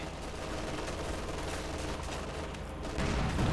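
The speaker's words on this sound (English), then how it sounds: "So it's the MG42." Sustained MG42 machine-gun fire in the Company of Heroes 2 video game, a steady dense rattle of rapid bursts at constant loudness that swells slightly louder near the end, with no speech.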